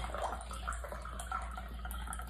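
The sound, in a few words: pouring a margarita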